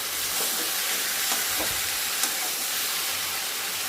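Spiced meat, dusted with cumin powder, fries in a pan with a steady, loud sizzling hiss, broken by a few faint scraping knocks as it is stirred.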